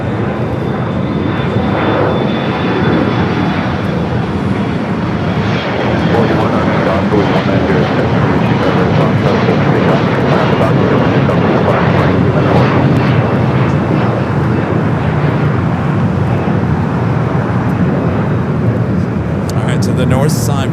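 Steady jet engine rumble from an airliner at LAX, an Airbus A321 waiting to cross a runway, runs continuously at moderate distance with a voice talking over it throughout.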